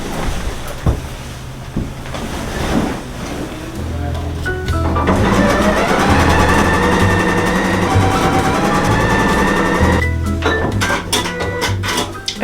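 A sewing machine runs steadily while stitching the seam of a quilt top, a mechanical whir that starts with a few clicks and handling noises, holds for several seconds, then stops abruptly before more handling sounds.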